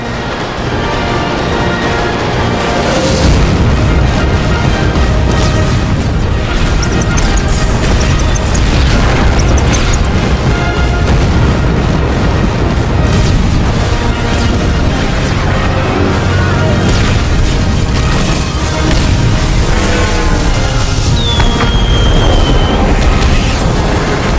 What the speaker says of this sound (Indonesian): kereta-kereta itu meledak, menghancurkan gedung parlemen dalam cahaya kembang api yang spektakuler